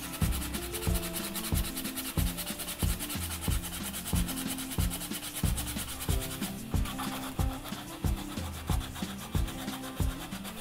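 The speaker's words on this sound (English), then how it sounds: "tanggalin natin yun by sanding." Steady back-and-forth sanding strokes rub a bump off the surface of a concrete tray cast in an old container, with a close, even rhythm and no talking.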